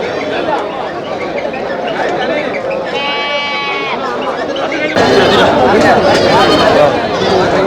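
Goats bleat at the Melapalayam goat market, with a clear wavering bleat standing out over loud crowd chatter and nearby people talking throughout.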